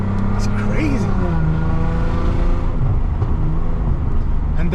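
Lexus IS250 with an M-Force tune and its exhaust valves open, a steady close engine drone with a rising rev partway through, while someone talks over it.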